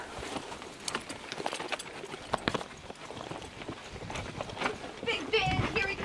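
Horse hooves clip-clopping on a trail ride, irregular sharp knocks at moderate distance mixed with rustling and movement noise, with people talking over them.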